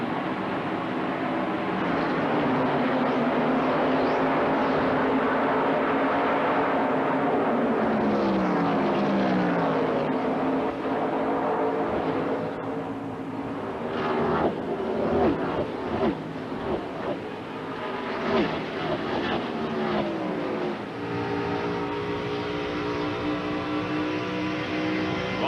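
1991 Hardee's 500 NASCAR Winston Cup race car heard in-car at Atlanta Motor Speedway, a loud, sustained engine roar with rising and falling pitch through shifts and laps, continuous and close.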